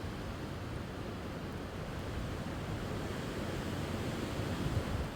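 Low, steady rushing wind buffeting the microphone at a -21°C winter camp near trees, a constant roar without pauses or voices.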